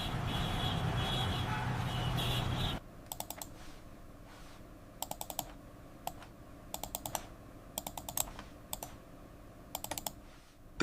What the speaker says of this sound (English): as I'm typing now